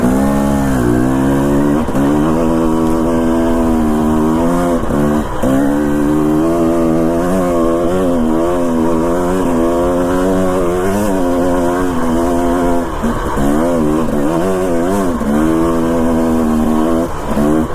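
A dirt bike rides a mountain single-track trail through thick, damp jungle-like vegetation, its engine loud and close throughout, revving up and down in constant rhythmic surges.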